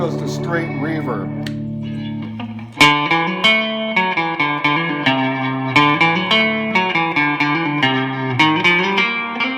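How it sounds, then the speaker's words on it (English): Electric guitar through a Fender Dimension IV sound expander set to straight reverb, starting with a brief dry phrase, then a loud, steady run of plucked notes and chords with a long, washy reverb tail. "Now you can switch this down, it just goes to straight reverb."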